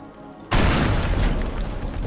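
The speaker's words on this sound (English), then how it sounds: "That was the wrong bomb." A bomb detonates in the destruction game Teardown, a sudden loud, close blast that erupts out of near silence and rolls on as a sustained rumble of crumbling debris.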